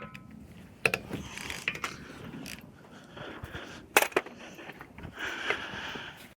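A hand ratchet clicks in short bursts, with sharp metallic snaps, as 21 mm wheel bolts are loosened on a Mitsubishi Mirage before a front brake job, close up and without talk.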